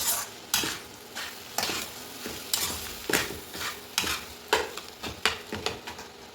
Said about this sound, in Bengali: এবার ম্যাশ করা আলুটা এর মধ্যে দিয়ে দেবো